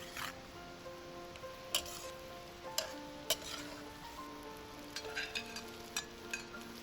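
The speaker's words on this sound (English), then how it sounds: "Stir fry for about 1 more minute." Chinese rice cakes are stir-fried in sauce, a soft, quiet sizzle broken by scattered clicks and scrapes of the spatula against the pan.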